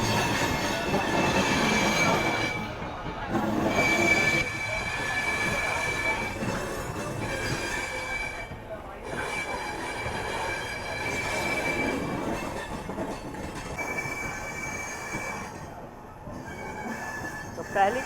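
Steel Express (Tatanagar–Howrah) train passing close by, a loud continuous rumble of rail wagons with repeated squealing wheel tones and clattering, steady throughout.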